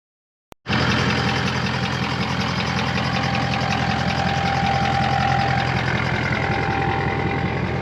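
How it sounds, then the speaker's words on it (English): A truck engine starts with a brief click and then idles loudly and steadily at close range, a dense, even rumble holding for several seconds with no talk. "Alright, bring the truck around."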